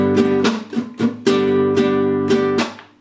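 Acoustic guitar in a relaxed groove, strummed with upstrokes only: about seven bright, ringing chord strums in a loose rhythm, close and alone, with the last chord fading out.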